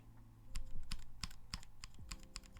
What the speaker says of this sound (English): This is what a novel key keyboard sounds like.